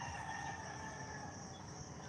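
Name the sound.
roosters crowing in the morning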